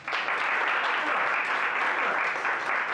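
An audience applauds in a steady, dense burst of clapping that holds at an even level for a few seconds, with no voices over it.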